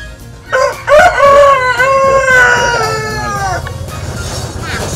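A white bantam rooster crows once, close and loud, a long stretched cock-a-doodle-doo that fades into a faint murmur of background noise.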